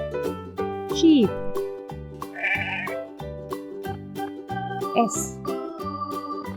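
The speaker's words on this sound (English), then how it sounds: "Sheep." Sheep bleating on a farm, several wavering bleats over a bouncy children's music track, fairly close and clear, with a short vocal interjection between calls.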